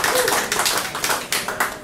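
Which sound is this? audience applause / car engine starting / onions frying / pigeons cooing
audience applause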